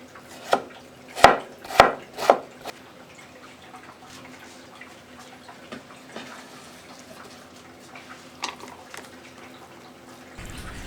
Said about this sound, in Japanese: 縦に置いてスライスをして千切りにします